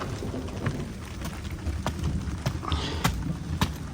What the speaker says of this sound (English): the thunder's here. A bit of rain, bit of welcome rain to be fair.